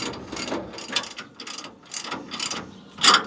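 A ratchet clicks in quick repeated bursts while U-bolt nuts on Hellwig Load Pro LP-25 helper springs are tightened, with short pauses between strokes and a sharper final burst, up close with no talking.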